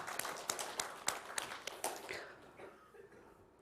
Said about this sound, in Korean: 우리 사랑과 격려와 또 기쁨으로 함께 박수 한번 치겠습니다.